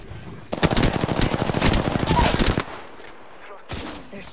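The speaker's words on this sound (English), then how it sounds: "They're shooting us." Rapid automatic gunfire in an Apex Legends match, a loud sustained burst of about two seconds, then quiet and a short final volley.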